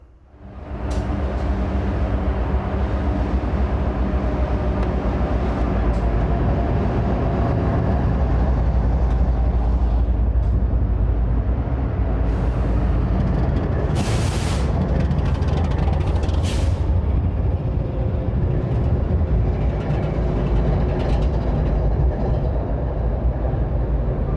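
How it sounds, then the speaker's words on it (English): A Norfolk Southern freight train rolls into Stevenson, a loud continuous rumble of wheels and cars on rail with squeals and brief bursts of air hiss, sustained for the whole stretch with no talking. "Rolling into Stevenson, the NS freight would be stopped on a red signal"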